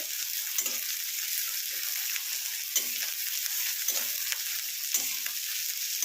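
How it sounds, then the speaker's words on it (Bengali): Finely chopped onions fry in oil until crisp for egg korma, a steady close sizzle with occasional stirring scrapes and soft pops throughout. "এটাকে আগে বেরেস্তা করে একদম ভেজে নিয়ে তুলে নেব"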